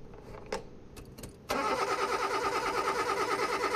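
A simulated car engine in Car Mechanic Simulator 2021 cranks briefly with a few clicks, then catches and settles into a steady idle hum during a fuel pressure test, fairly close and alone.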